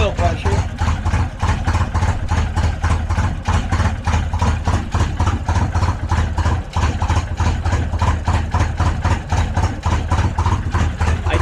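A car engine idles after an oil change with Lucas oil, a loud, close, steady running note with regular rapid pulsing that holds evenly throughout.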